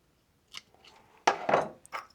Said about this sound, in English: give it a cut with the old tin snips